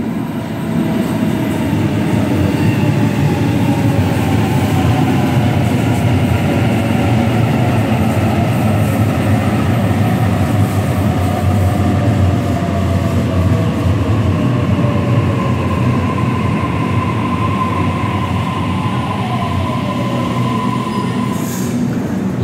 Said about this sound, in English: This is a train coming from the International Airport.